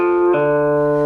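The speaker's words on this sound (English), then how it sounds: "So it's just one pluck and a hammer and a pull off." A single plucked guitar note on the fourth string that shifts up in pitch partway through with a hammer-on, then settles with a pull-off, a quick legato change with no second pick.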